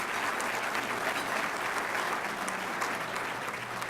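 Steady, dense applause from an audience at a children's charity champions breakfast, continuous and fairly loud throughout with no pauses.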